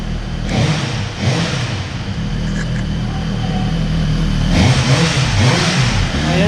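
Suzuki GSX-R1000 sport motorcycle engine revving loudly up close outdoors in Pangasinan, with a steady rumbling idle broken by repeated throttle blips near the start and again toward the end.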